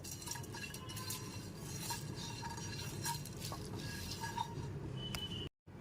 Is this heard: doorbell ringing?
no